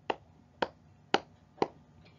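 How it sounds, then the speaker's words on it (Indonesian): Four sharp, evenly spaced hand claps, close by and fairly quiet, each a crisp single smack with a brief pause between. "Lalu dengan tepukan kedua tangan."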